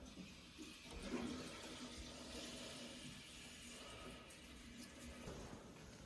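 Water running from a tap in a house in Grimsby, a faint steady rushing and splashing stream that continues throughout, quiet and distant with no talking.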